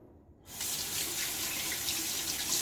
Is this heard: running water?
yes